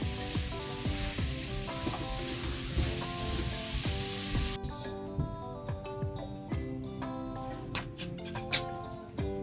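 Loud, continuous sizzling of vegetables stir frying in a hot pan, with scraping and stirring clatter throughout.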